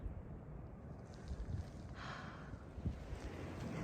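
Cold wind on an Appalachian Trail ridge line at 29 degrees buffets the microphone, a low, rumbling roar with gusty swells and a brief hissing rush in the middle, continuous and close, with no voices.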